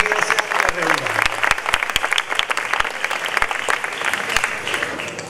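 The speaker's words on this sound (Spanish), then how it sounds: "Un aplauso para todos ellos" Warm audience applause rises at a flamenco contest, Noches de Bajo de Guía, steady clapping with intermittent close knocks while a voice talks over the crowd.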